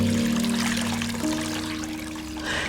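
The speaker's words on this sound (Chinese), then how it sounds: "锅中加入适量的清水" Clean water pours steadily into a cooking pot on the stove, a continuous close trickling splash that shifts pitch slightly partway through as the pot fills, with no talking.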